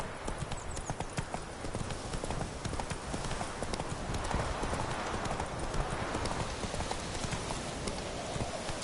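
Roach, the horse in The Witcher 3, gallops in a fast, even clip-clop of hooves that keeps going throughout. The hoofbeats are loud and close over wind and movement noise, with some faint game sound mixed in.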